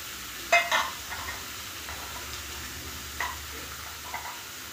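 Spice paste sizzles in a pan ahead of the bottle gourd going in, with a soft, continuous fry broken by a few brief metallic clinks and stirs. No voice is heard.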